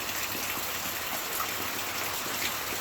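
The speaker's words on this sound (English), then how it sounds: "it seems like we're gonna be getting the rain all day." Rain falls steadily in Jamaica, a dense, even hiss with no talking.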